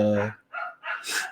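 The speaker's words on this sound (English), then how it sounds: "Sorry for the dogs." Dogs bark in quick, close yapping bursts, sharp and fairly loud.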